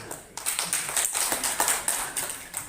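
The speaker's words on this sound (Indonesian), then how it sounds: "beri aplaus untuk kita semua" An audience of teachers at a workshop session applauds, with a steady run of overlapping hand claps of moderate loudness and no talking.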